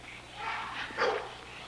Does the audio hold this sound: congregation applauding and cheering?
no